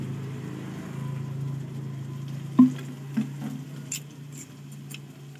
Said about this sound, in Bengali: আবার ভালো করে কষিয়ে নেব।